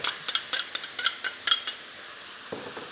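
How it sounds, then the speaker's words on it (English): A Hong Kong-style tomato and egg stir-fry cooks in a wok as sauce is added, with a string of light spatula clinks and scrapes over a soft, faint sizzle. "Sauce, round the edge of the wok."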